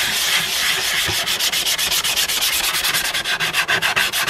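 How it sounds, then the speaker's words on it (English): Old sandpaper rubbed back and forth to scrub rust and dirt off a garden tool, a fast, steady, close scratching rhythm that carries on without pause and with no talking. "It's just old sandpaper"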